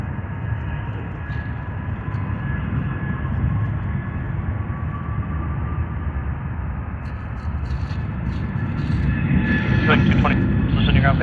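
A British Airways airliner at Sydney Airport gives a steady, loud jet engine roar that builds toward the end, with tonal whine throughout and people talking over it.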